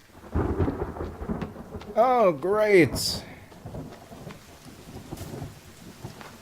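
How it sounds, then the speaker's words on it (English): A thunderstorm with rain rolls through the survival game The Forest, a deep rumble of thunder over steady rainfall while a man briefly exclaims partway through. "Lightning storm."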